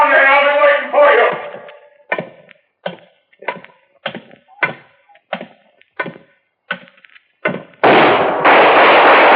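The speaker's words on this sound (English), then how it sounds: "Good shot, Dollar." Gunshots ring out in an old-time radio drama, a dozen or so loud sharp reports spaced about half a second apart, between bursts of dialogue at the start and end.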